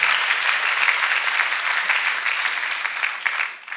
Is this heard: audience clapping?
yes